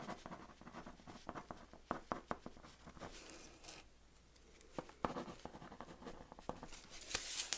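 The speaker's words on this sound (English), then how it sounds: "I'm going to just write these down for you" A pen scratches across paper at a mortgage office desk, soft quick strokes and taps in an irregular stream, very close and quiet, with no one talking.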